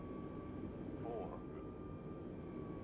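An airliner's engines roar as a steady, low, droning hum in a flight simulator game, with a faint voice talking underneath.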